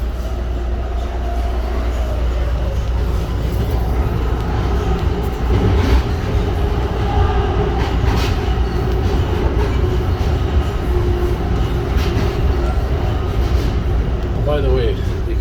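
An EXO commuter train rolls steadily along the rails between Saint-Bruno and Saint-Lambert stations with a loud, constant rumble, punctuated by occasional rattles and faint squeals.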